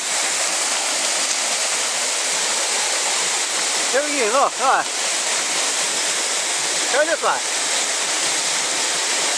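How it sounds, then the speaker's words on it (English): Waterfall in Newfoundland, a steady broadband roar of falling water filling the whole clip, with someone talking briefly over it. "What a nice waterfall, eh?"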